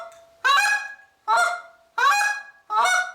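A reed goose call is blown to mimic goose honks, producing four loud, close, evenly spaced honks with short pauses between them and no speech.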